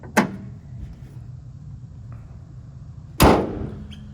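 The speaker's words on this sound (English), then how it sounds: "So let's get the hood down." The hood of a 1994 Toyota Land Cruiser KZJ77 turbo diesel slams shut twice: a sharp metallic clunk near the start, then a louder, close slam about three seconds later, with quiet background between.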